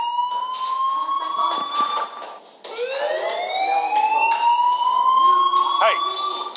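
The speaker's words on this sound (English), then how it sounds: "Hey, do you hear that fire alarm?" A fire alarm wails continuously in the game Life is Strange, a loud, rising and repeating electronic siren tone that dominates throughout, with voices talking beneath it.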